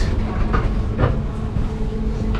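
An old communist-era passenger train rumbles steadily at a station in Romania with low rolling noise and a few faint metallic clicks, no voices.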